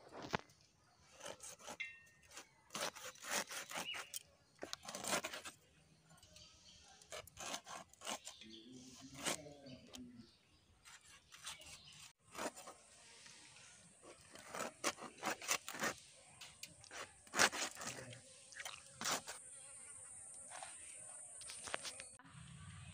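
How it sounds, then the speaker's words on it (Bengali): A shankar (stingray) fish being cut up by hand in a Bengali village kitchen: repeated short rasping, scraping cuts in irregular bursts, fairly close and moderately quiet, with a brief voice partway through. "আমি এখন মাছ কাটছি।"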